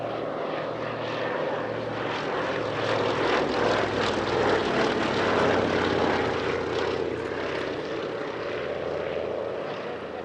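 A Westland Lysander propeller plane flying at an outdoor airshow gives a steady, loud, droning radial-engine roar. The drone swells slightly as it passes and continues throughout with no voices.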